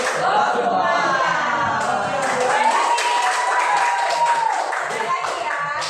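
A classroom group at a vocational high school in Bandar Lampung claps out the rhythmic 'tepuk cinta' love clap: dense, fast clapping from many hands, mixed with chanting voices and crowd noise throughout.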